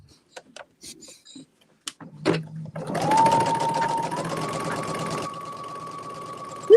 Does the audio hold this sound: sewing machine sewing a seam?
yes